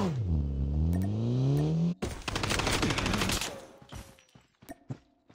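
Gunfire in Call of Duty Blackout: a vehicle engine whines up, then a dense burst of rapid shots rattles for a couple of seconds before tapering into scattered, fainter cracks.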